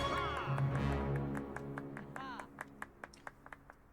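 Students applauding in a Hogwarts Legacy classroom: a burst of crowd clapping under game music and talk, thinning out into a few scattered, sharp individual claps near the end.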